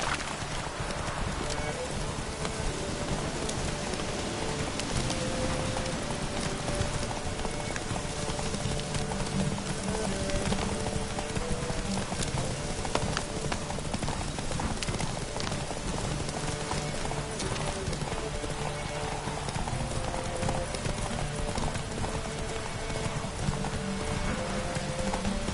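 A horse gallops in The Witcher 3 with a rapid, steady clatter of hooves that runs loud and unbroken throughout, while a voice speaks over it now and then.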